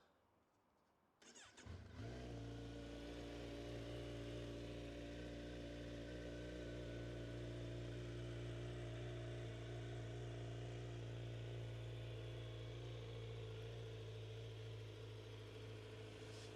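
A Kawasaki Z900 motorcycle with about 1,400 km on it cranks and fires after a quiet start, then settles into a steady, loud, close idle that continues to the end.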